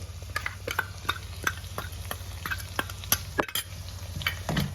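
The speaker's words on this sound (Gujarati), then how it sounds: "હવે આને બરાબર મિક્સ કરીને તેલ છૂટું ના પડે ત્યાં સુધી આપણે હલાવીશું" Pav bhaji paste is stirred into frying tomatoes, onions and capsicum, with regular spoon scrapes and taps against the pan over a low, steady sizzle and a faint constant hum.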